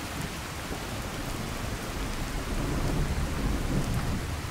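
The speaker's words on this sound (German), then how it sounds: "ob das nicht vielleicht ein bisschen zu laut ist, der Regen." Steady heavy rain hisses with rumbling thunder inside the Fallout 4 video game, a constant dense wash that swells slightly louder toward the end, no talking.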